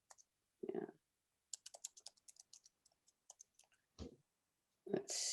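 Scattered keystrokes on a computer keyboard, clicking in short irregular bursts at close range, with brief breaths or murmurs in between.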